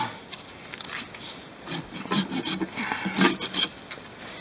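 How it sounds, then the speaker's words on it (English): A rasp files old glue off a horse's hoof in repeated short, gritty strokes, close up and getting louder and more rhythmic toward the end. "So I just use the rasp to take some of that old glue off."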